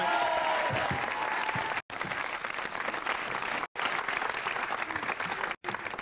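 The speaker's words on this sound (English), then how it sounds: "how about a nice round of applause for Chris" Studio audience on a TV game show applauding a contestant, a continuous, moderately loud wash of clapping broken by a few abrupt, near-silent cuts.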